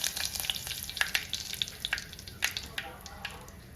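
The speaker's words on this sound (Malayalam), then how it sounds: "കടുക് പൊട്ടി വന്നു കഴിഞ്ഞാൽ അല്പം കറിവേപ്പിട്ട് കൊടുക്കാം" Mustard seeds and curry leaves crackle and spit in hot oil for a tomato curry, sharp pops and sizzles, close by and lively, no voices.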